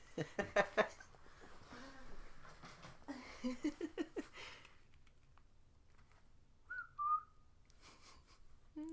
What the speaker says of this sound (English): I won't whistle any more than that.